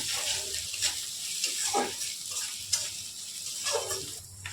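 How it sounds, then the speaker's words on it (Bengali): Turmeric and cumin powder are stirred into a frying Pabda fish masala, giving a steady close hiss of sizzling oil broken by repeated spatula scrapes against the pan, with no talking. "ভালো করে মিশিয়ে নিচ্ছি"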